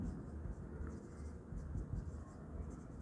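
Writing on a board during an accounting class, a soft continuous scratching of the marker or chalk heard up close under a low steady room hum, fairly faint throughout.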